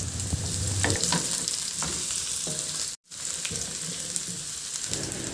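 Ginger, garlic and onion fry in a pan for a simple fish dish, giving a steady, close sizzle broken by scraping stirs. The sound cuts out for a moment midway, then carries on.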